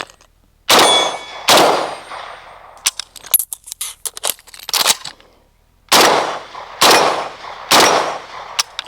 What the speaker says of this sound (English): go to the 8-inch gong because the 4-inch gong fell down